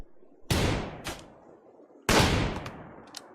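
Gunfire in the colony game Rimworld: two sharp, loud shots about one and a half seconds apart, each with a short ringing decay and a fainter follow-up crack.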